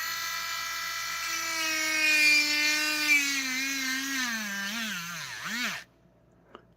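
A power drill set to its highest setting bores into a masking tape creature, a loud, close whine that holds steady, then sags and wavers in pitch as it bites before cutting off abruptly, with no talking.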